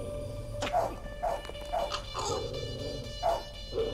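A dog barks in the video game Ministry of Broadcast: about six sharp barks at uneven intervals, fairly close, over a low steady background hum.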